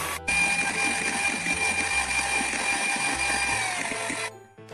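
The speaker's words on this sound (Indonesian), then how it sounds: "Nih ya, kita mixer putih telur hingga soft peak." Electric hand mixer whipping egg whites toward soft peaks for a steamed marble sponge cake, a steady close motor whir that starts abruptly and runs evenly for about four seconds before cutting off, with no talking.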